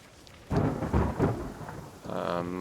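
Thunder rumbles through a rainstorm rolling in across the woods in the survival game The Forest, several deep booming rolls building as steady rain begins to patter, all heard without any talking.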